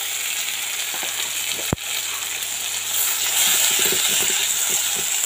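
Vegetables and onion sautéing in a pan for makka sola rava kichadi, a soft continuous sizzle with a sharp clack from the utensil and light stirring scrapes.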